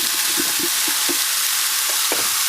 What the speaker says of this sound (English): starting to make sizzling, sizzling, sizzling